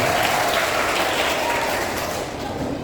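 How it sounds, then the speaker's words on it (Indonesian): Audience at a school speech contest for a national heroes' day celebration claps for a fourth-grade speaker, a dense, even burst of applause that holds steady then thins slightly at the end. "Oke, beri tepuk tangan untuk Brilda dari kelas"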